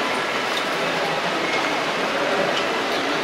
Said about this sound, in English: there's a little shuttle train